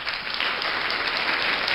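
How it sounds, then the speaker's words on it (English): A crowd's applause plays as a canned effect from a V8 sound card, steady dense clapping at moderate volume throughout. "or maybe applause."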